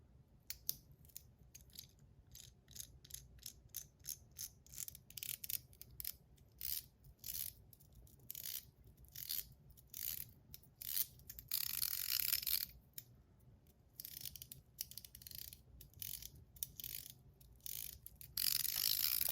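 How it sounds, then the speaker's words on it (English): A screw being driven back into a metal DZ PEI Top C fidget toy makes a long run of quiet, close ratcheting clicks in irregular bursts, with a few louder scraping stretches and no talk. "I'm gonna put this screw back in here."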